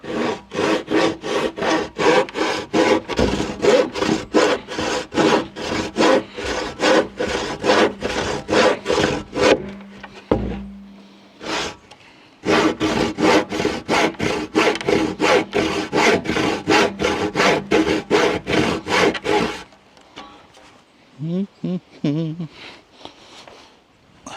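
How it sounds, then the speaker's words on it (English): Wood being sawn by hand during winter woodwork in a shed, rhythmic back-and-forth strokes close up and loud, with a brief pause in the middle and quieter handling sounds at the end. "This is normally one of my winter tasks, this is doing woodwork in the shed."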